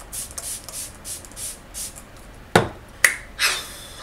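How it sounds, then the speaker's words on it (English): MAC Fix Plus setting spray misted onto a face in three short, close bursts near the end, following a stretch of quieter soft rustling. "I'm just gonna spray my face with a little bit of Fix Plus"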